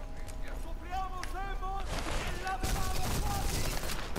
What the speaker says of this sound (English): Let me shoot him.